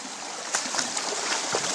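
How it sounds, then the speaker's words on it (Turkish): A canyon stream flows on the Acısu creek trek, a soft, steady rush of water alone for a brief moment, with faint trickling splashes. "Evet dere çok güzel."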